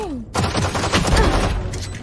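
Rapid gunfire in the Valorant video game, a dense burst of shots lasting about two seconds after a brief rising tone, loud and close.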